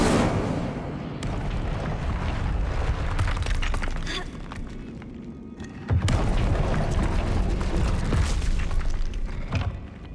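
Spell blasts and magical fire bursts from combat in Hogwarts Legacy, with booms and shattering crashes. Two loud surges, the second around midway, dominate a dense, busy game mix with no talk.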